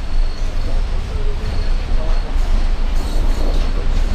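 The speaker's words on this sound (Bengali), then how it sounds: "সো আমরা এখন কলকাতা স্টেশনে ট্রেন ঢুকছে" The Saraighat Express pulls into Kolkata station, giving off a heavy continuous low rumble with faint wheel squeal, close and steady, while a person talks over it.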